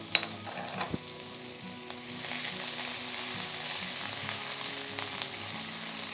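Steady sizzling of chopped onion, garlic and ginger frying in hot oil, with occasional scraping and stirring clinks over the crackle.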